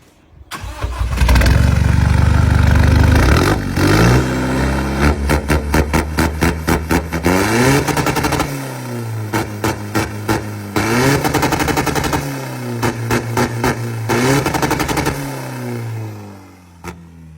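A modified Toyota Revo pickup truck's turbo engine revs hard again and again, loud and close, with sharp popping bursts from the exhaust between throttle blips.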